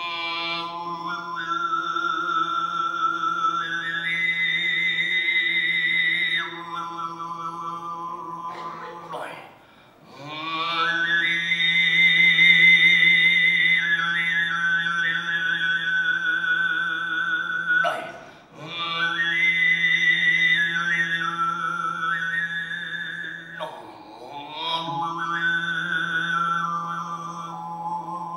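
A Mongolian folk vocal piece imitates the sky, sung in the ishira style as a low steady drone with whistling overtones gliding above it, held in long phrases with brief breaths between them.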